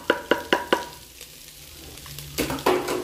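Chopped onion and garlic sautéing in a pan with already fried bacon, four quick stirring scrapes up front, then a quieter sizzle before louder stirring and frying resumes near the end, no talking.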